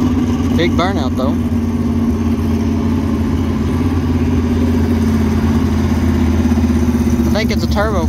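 Turbocharged outlaw pro-mod drag racing car engine at the strip, a loud continuous drone holding steady throughout, with brief voices talking over it near the start and end.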